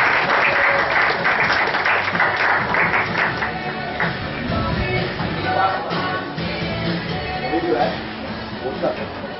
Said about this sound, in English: let's have an applause for Caribbean cocktail